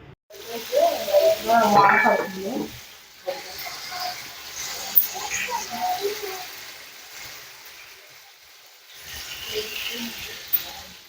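Big tiger prawns for a curry sizzle and crackle in a pan. A loud burst of frying at the start fades to a softer hiss broken by stirring clatter.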